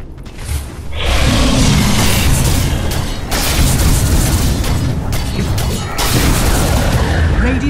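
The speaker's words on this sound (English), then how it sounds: "Radiant's bottom tower is under attack." In a Dota 2 match, a tower comes under attack amid loud, continuous booming explosions and crashing impacts, a dense roar with brief dips, while an announcer voice speaks over the game sounds.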